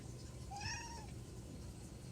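A house cat gives a single clear meow, rising then falling, over a steady low background hum, faint and fairly close with no talking.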